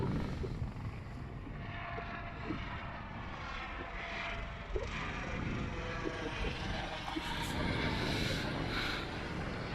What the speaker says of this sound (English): Been having this helicopter hover around for the last 10 minutes or so.